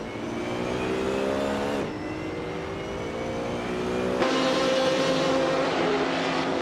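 Several race cars start a race in a racing video game, with vintage and newer rides including Fuso and NSR Savage; engines rev and accelerate together in a steady loud roar, with the pitch jumping up twice as the cars shift gears.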